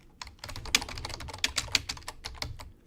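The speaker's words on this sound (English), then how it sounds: "I'll type in a chat here." Fast, close clicking on a computer keyboard while a message is typed into a chat, an irregular burst of crisp keystrokes with a few harder strikes, no talking.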